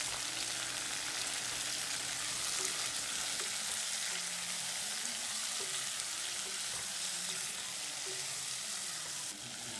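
Chopped yellow and red cherry tomatoes frying in a pan, a dense, steady sizzle and hiss throughout with faint stirring knocks, no speech.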